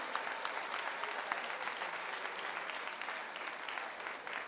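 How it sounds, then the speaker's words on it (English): Sustained round of applause from a large crowd at a county swimming championships, honouring volunteer officials; dense, steady clapping fills the hall at moderate distance for several seconds without letup. "can we just give them a massive round of applause?"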